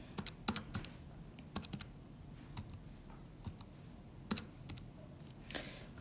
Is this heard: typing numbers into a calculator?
yes